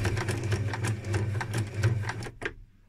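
A domestic sewing machine stitches through leather with a centimetre seam allowance, a rapid, steady mechanical rattle of needle strokes over a low motor hum, close and loud, stopping abruptly near the end.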